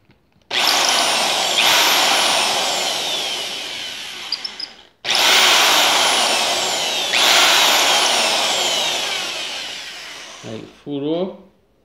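A power drill bores into a GoPro Hero 4 Black waterproof case in two long, loud, steady whining bursts separated by a brief pause. A short bit of talk follows at the end.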